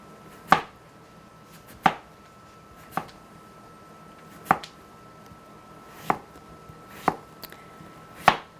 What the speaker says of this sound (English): I'm going to carefully slice very thin